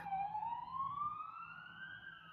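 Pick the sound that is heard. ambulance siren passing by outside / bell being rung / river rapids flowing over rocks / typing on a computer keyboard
ambulance siren passing by outside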